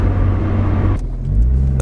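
A 1988 Mazda 323 GTX Turbo 4WD engine drones loudly in low gear while accelerating, a deep steady rumble that briefly dips before pulling harder again.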